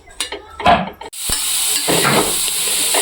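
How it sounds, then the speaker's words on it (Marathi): Onions sauté on a flat griddle pan, with a few clattering stirs and scrapes up front before a steady, close sizzle settles in, broken by more occasional stirring knocks; no talking. "सगळ्यात अगोदर आपण कांदा परतून घेणार आहोत"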